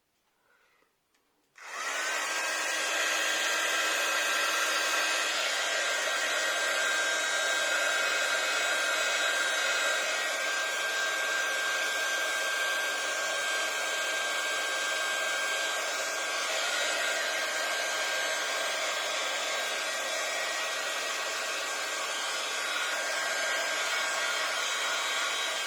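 A heat gun runs continuously as it warms acrylic paint, starting after a brief quiet moment and then holding a loud, even blowing whir with a faint high whine for the rest of the stretch.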